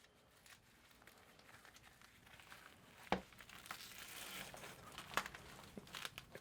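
A protective EMP bag being folded up, giving quiet crinkling and rustling plastic sounds that build gradually, with a few sharper crackles and a faint distant voice.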